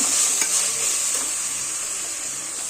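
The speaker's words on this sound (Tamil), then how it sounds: "லஞ்சுக்கு வந்து தேங்காய் பால் சாதத்துக்கு வந்து வதக்கிட்டுருக்கேன்" Ingredients for coconut milk rice sauté in a hot pan with a steady, bright sizzle, a couple of soft spatula scrapes near the start, close up and with no one talking.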